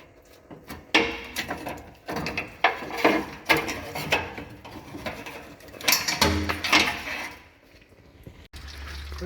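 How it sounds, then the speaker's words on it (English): Hand tools working a clamp loose on an MCI coach bus, with a series of sharp metallic clicks, scrapes and ratcheting knocks in irregular bursts, close by, plus a brief low rumble near the end. "Get the clamp off here."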